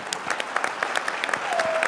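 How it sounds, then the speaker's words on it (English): Round of applause from an audience at a leadership conference on national intermediation and housing, a steady patter of many hands clapping at moderate volume with a faint tonal whistle near the end. "Please join me in giving a round of applause."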